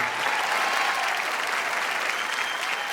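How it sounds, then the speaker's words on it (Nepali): Studio audience applauding steadily at a televised Nepali singing competition's blind audition, a dense, continuous wash of clapping that stays loud and even throughout. "उहाँहरूको लागि पनि ताली बजाइदिउँ होला"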